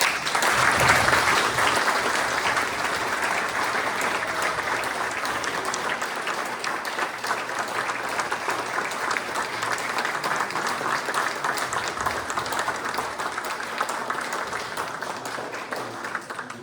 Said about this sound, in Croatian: ja iskreno molim čitavu ovu salu da se napravi aplauz prema ovim divnim učiteljima